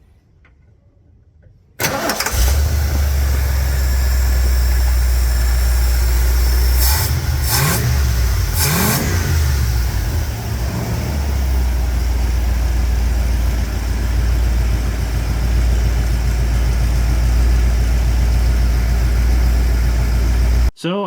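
An old truck with a leaking heater core cranks and fires up, then settles into a loud, steady engine run close by, with a few brief revs early on and no talking.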